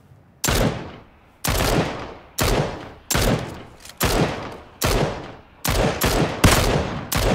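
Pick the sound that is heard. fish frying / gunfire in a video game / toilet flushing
gunfire in a video game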